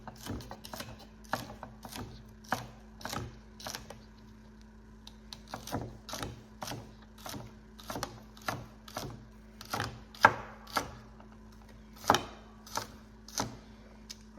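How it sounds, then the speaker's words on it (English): A knife chops celery on a cutting board in steady, sharp knocks, about a dozen evenly spaced strikes close by, with no talking. "we're going to finish cutting up this celery right here"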